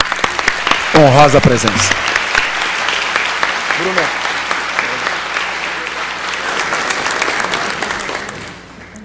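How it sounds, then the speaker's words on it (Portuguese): Audience applause fills a solemn legislative session honoring DeMolay Day in São Paulo, a dense steady clapping that runs nearly the whole time, with a voice speaking over it briefly before it fades out at the end. "uma salva de palmas a ambos pela"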